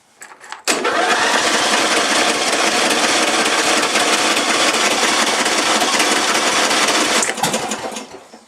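Small engine cranked and fired with a little gas after hard starting, a loud continuous buzzing rattle running near for about seven seconds before cutting off.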